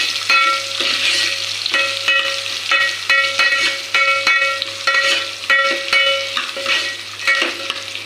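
Onions frying in a pan, a steady close sizzle with a continuous hum underneath and repeated sharp scraping clicks of stirring throughout, with no one talking.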